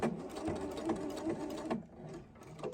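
A Husqvarna Viking sewing machine stitches quilt binding with a quick, steady mechanical chatter of needle strokes, close and clear, slowing and stopping near the end.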